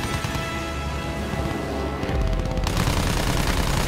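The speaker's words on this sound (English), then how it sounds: "Dodge that gunfire." Rapid gunfire in a Battlefield 1 firefight, dense bursts of shots over constant battle noise that grow heavier and louder partway through, with no talking.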